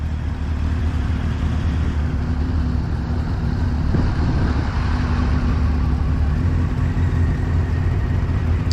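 A larger training motorcycle on a UK riding course rolls away on the clutch alone with no throttle, giving a low, steady engine idle throughout, with a faint bump midway.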